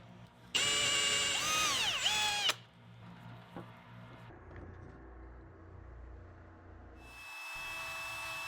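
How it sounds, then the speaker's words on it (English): A power drill with a 9/32 bit bores partway through a door, a loud, steady whine for about two seconds with its pitch sliding down and back up as the bit loads, followed by quieter shop handling noises and a high electric hum near the end. "I'll drill halfway through the door with a 9/32 drill bit"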